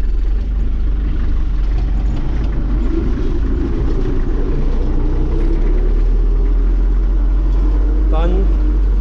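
Belarus tractor engine rumbles loudly and steadily close by as it pulls off in eighth gear, a deep continuous drone with someone speaking over it.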